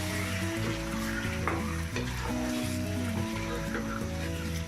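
Pieces of beef hitting a hot pan with spices, giving a continuous loud sizzle and frying hiss with steady stirring, up close and with no talk.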